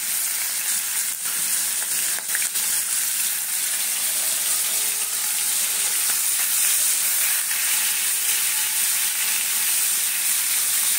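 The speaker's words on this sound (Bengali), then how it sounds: "কড়াতে তেল দিয়ে দিয়েছি, চিংড়ি মাছ দিয়ে দিলাম।" Prawns coated in salt and turmeric fry in hot oil in a kadai, giving a loud, steady, close sizzle with crackling spatter and a few faint clinks, no voices.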